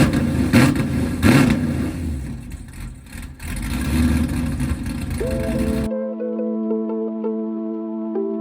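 LS-swapped Squarebody truck with a Corvette exhaust revs loudly up close in several rough bursts, with a speaking voice partly over it, then cuts to a steady tonal hum.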